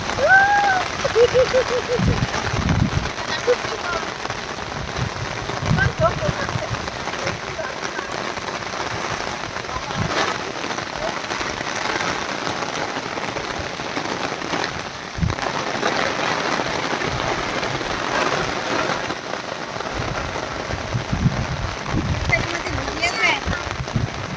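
Rain falls steadily outdoors, a constant patter on surfaces with scattered heavier drops, while people talk nearby over the continuous wash.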